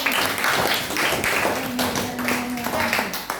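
Classroom students clapping for a presenting group during a lesson, a short burst of uneven hand claps close by, with a voice and some tonal background sound underneath.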